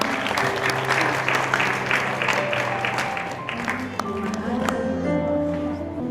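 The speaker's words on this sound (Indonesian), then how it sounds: "Kita beri tepuk tangan biasa." Wedding guests applaud in a steady, moderate wash of clapping that tapers off near the end, with music tones and voices underneath.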